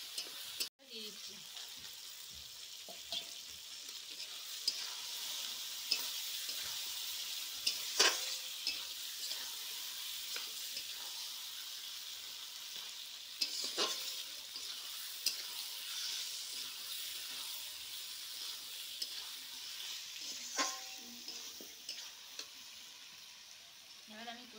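Food with turmeric sizzles and crackles steadily in a hot pan while being sautéed, with intermittent scraping stirs and soft clinks of a spoon, fairly quiet and close.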